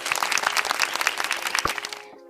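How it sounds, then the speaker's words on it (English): A short burst of crowd applause, dense and continuous clapping at close range, ending abruptly after about two seconds. "a round of applause for you"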